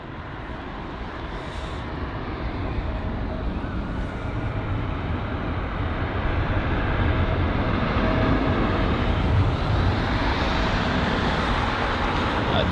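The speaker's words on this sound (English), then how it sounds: "So the American Airlines 7879 Dreamliner here, arriving from Philadelphia" An American Airlines Boeing 787-9 Dreamliner arriving at London Heathrow from Philadelphia, heard as a steady, loud broadband engine roar that holds throughout with a slight rise toward the end.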